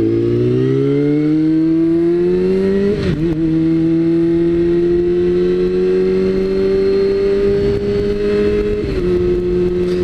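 A motorcycle riding through a town intersection, its engine a loud, steady drone with slight pitch shifts as the throttle eases and picks up, heavy wind rush throughout and no talking.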